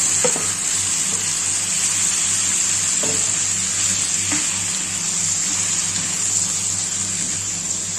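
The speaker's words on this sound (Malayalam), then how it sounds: "എണ്ണ ചൂടായി വരുമ്പോഴേക്കും നമ്മൾ ചിക്കൻ ഇടും ചിക്കൻ അതിൽ കിടന്നൊന്ന് ഫ്രൈ ആവണം ആ എണ്ണയിൽ ചിക്കൻ ഇടുകയാണ്" Chicken pieces frying in hot oil give a steady, dense sizzle with occasional soft stirring clicks, close and continuous for the whole stretch, with no voices.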